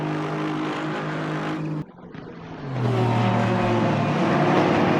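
Porsche 911 Competition and Aston Martin Vantage race cars in a sim racing game, engines droning loud and close with a brief dip in the middle, then a rising, steady revving roar through the rest.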